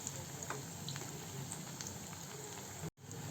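Onion bonda frying in hot oil, a steady soft sizzle with faint bubbling pops, fairly quiet and continuous, broken by one brief dropout near the end.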